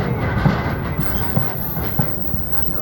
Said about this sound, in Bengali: আমরা আসলে লাইন চেঞ্জ করছি, আমরা বামের থেকে ডানের লাইনে প্রবেশ করছি।